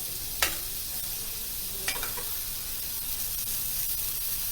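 Beef steak for beef Wellington searing in a hot pan, a steady close sizzle with two brief sharp crackles early on and no talking.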